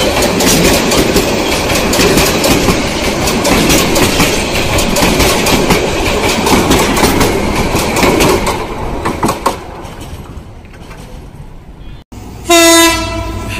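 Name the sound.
Chattala Express train running on rails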